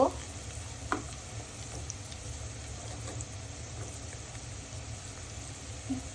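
Onion and garlic paste fries in a pan for a prawn and potato curry, a soft continuous sizzle with a few faint clicks of stirring and no voices.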